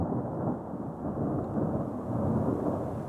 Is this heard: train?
no